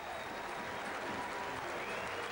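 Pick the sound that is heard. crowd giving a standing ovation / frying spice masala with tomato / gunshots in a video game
crowd giving a standing ovation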